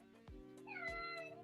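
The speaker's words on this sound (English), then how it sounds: "That's my cat." A pet cat gives two short meows, the second rising and drawn out, close by and fairly quiet indoors, with no talk over it.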